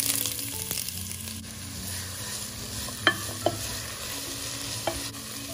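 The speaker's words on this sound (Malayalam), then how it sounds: "അതിലേക്ക് സവോളയൊക്കെ ഒന്ന് മുരിക്കാൻ വേണ്ടിയുള്ള വെളിച്ചെണ്ണ ചേർക്കാം." Onions fry in coconut oil in a hot pan, a soft steady sizzle broken by a few sharp clinks and scrapes of stirring, with no talking.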